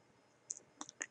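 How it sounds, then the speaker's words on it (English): Left mouse button clicks on a computer mouse during a PowerPoint 2013 lesson, three or four sharp, faint close clicks in quick succession in a quiet room. "I then click the left mouse button"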